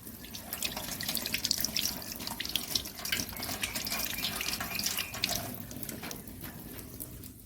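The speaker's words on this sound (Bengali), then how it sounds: "হাত ধুয়ে নিই।" Hands are washed under a running kitchen tap, with a steady splash of water and irregular drips and spatters as the hands move through the stream, close and fairly quiet.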